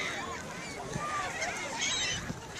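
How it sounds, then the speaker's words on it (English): Gulls call in noisy squawks and honks at a beach, under steady wind and surf noise, with brief bursts around a second and again near two seconds. "these seagulls are dirty"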